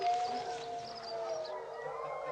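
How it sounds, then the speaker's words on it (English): Dogs howl in long, wavering cries that rise and fall in pitch, heard at a distance and fairly faint, with no barking distinct and no voices. "those dogs are definitely getting louder"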